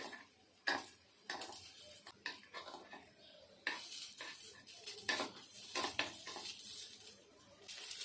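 Appe are turned one by one in an appe pan, a quiet series of small metallic clicks and scrapes with soft taps between them, close and fairly faint with no talking.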